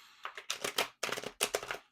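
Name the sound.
shuffling tarot cards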